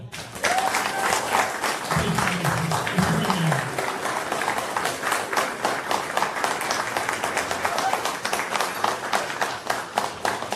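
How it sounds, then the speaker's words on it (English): A crowd at a strongman competition applauds loudly and steadily, dense continuous clapping with cheering that holds for the full stretch without a break. "Can we give him a massive round of applause?"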